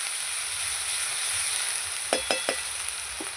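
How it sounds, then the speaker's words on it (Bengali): Onion paste with cumin, ginger and garlic paste gets stirred in a hot pan, giving a steady broadband sizzle with a few short scraping strokes near the end, close and moderately loud, with no talking. "পেঁয়াজ বাটা আছে জিরে আদা রসুন দিয়ে দেবো ভালো করে নেড়ে দেবো"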